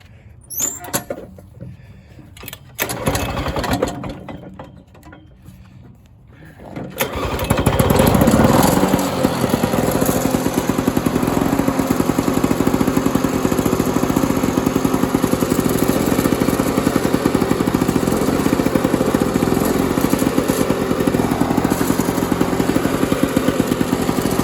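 Lawn Boy lawn mower: a few pulls and rattles, then the small engine catches and runs at a loud, steady, buzzing idle for the rest of the stretch.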